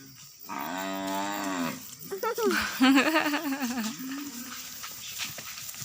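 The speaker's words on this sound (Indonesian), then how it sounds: "Ada sapi." A cow lets out one long, loud, close moo, followed by voices talking and a child's excited sounds.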